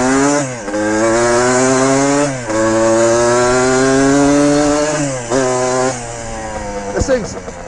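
A 1974 Suzuki TM125 vintage two-stroke motorcycle engine is ridden hard, its buzzy note rising through the gears with sharp drops at each shift, loud and close before easing off at the end.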